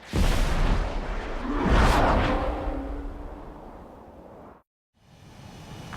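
A missile launches in Ace Combat 7 and explodes, heard as a loud rushing roar with a heavy boom that builds, swells, fades and cuts to near silence. The noise returns briefly at the end.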